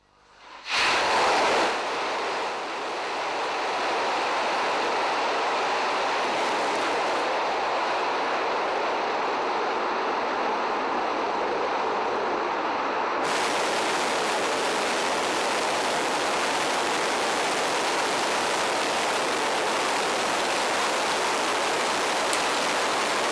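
Soyuz-2-1A rocket with Fregat upper stage lifting off, a loud, sustained broadband roar that swells within the first second and holds steady, growing harsher and brighter partway through, with no voices.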